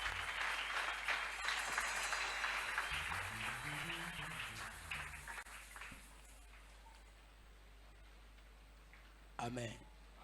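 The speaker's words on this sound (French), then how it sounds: "Est-ce qu'on peut acclamer le Seigneur, notre Dieu?" A church congregation applauds in praise of God, a dense wash of clapping that slowly fades out, with scattered voices and a brief sung or called phrase near the end.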